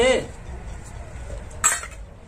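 Dishes and utensils are set down in a home kitchen with a brief clatter near the start and a sharper clink about a second and a half in, under low background noise with faint voices.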